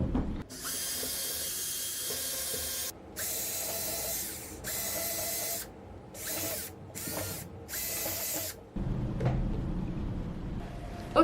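Small holes being drilled into a carved pumpkin lantern for Halloween, a steady mechanical whir running in several bursts separated by brief pauses, close and fairly loud with no talk.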